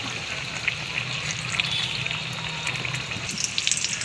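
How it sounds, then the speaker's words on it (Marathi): Mirchi vada, chili fritters, frying in oil over a low gas flame, giving a steady close crackle and fine sizzle that holds throughout with small popping bursts. "बारीक गॅसवरती खरपूस तळून घेऊ।"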